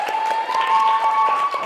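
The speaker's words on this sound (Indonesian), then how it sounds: "Sekarang tepuk tangan untuk kita semua" A classroom audience claps together, a short burst of loud, close applause with a sustained tone running underneath.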